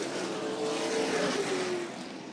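Race cars roar around Auto City Speedway during a JEGS/CRA All-Stars Tour late-model race, a loud, steady engine drone with a rising and falling pitch as the pack accelerates through the corners under green-flag racing.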